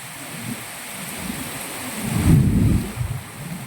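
Monsoon rain and thunder on an Ashadh-month night in Moti Gop, Gujarat: a steady hiss of rain, then a loud, deep rolling thunder rumble swells near the middle and fades unevenly. No one speaks.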